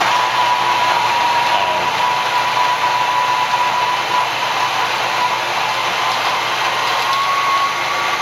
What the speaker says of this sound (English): First of all, we turn on the grinder and then we grind about 16 grams of